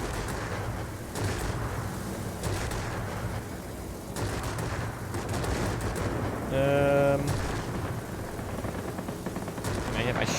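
Aircraft guns firing in the World of Warplanes video game, flying an Me 209 A, with short rapid bursts of gunfire over a steady engine drone, moderately loud, with a person talking at times and a brief tonal beep midway.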